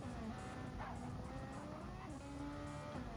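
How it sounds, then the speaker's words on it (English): Race cars in a sim racing game on the long straight at Circuit de Spa-Francorchamps, giving a steady droning engine whine with tonal harmonics and faint squeal, fairly quiet and without commentary. "just been taken on the inside by Damon, coming down the long straight now"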